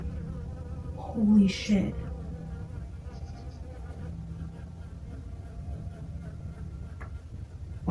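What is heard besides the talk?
bees buzzing coming through a window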